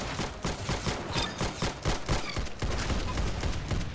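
Rapid gunfire in the Roblox shooter Arsenal, a dense run of loud, repeated shots and bursts that fill the whole stretch with almost no gaps.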